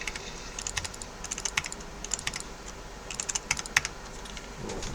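Rapid, uneven clicking of keys on a computer keyboard, typed in quick bursts with short pauses, close and fairly quiet over a low steady room hum, with no voices.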